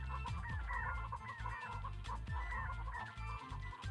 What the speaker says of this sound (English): That's why I like how they're all chickens.